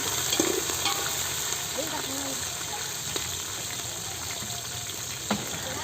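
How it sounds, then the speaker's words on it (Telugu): Curry leaves sizzle and fry in hot oil for upma, a steady, dense crackle that fills the whole stretch with a few sharper pops, close and fairly loud. "కొద్దిగా అంతా కరివేపాకు వేస్తున్నా, వేసినాక అవి కొంచెం వేపుకోవాలి"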